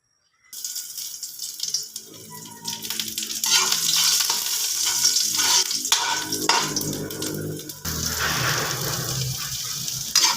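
Adobo ingredients fry in a little cooking oil with a loud, steady sizzle that carries on throughout, broken by stirring scrapes and a few brief watery splashes.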